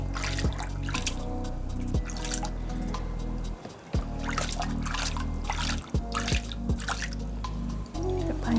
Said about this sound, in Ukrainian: Ну, от вимивається ґрунт.